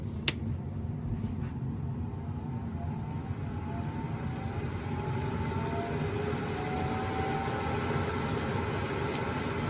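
An exhaust fan for an airbrush spray booth in a home office and hobby room runs with a steady, close whooshing roar that holds an even level throughout, with no talking.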